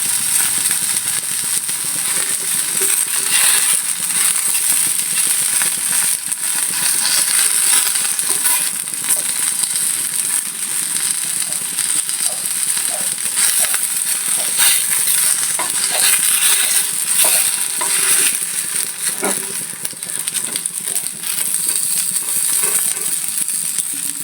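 Banana fritters (pazhampori) frying in hot oil in a home kitchen, a steady dense sizzle and crackle that runs unbroken and fairly loud, with occasional small clinks of a utensil.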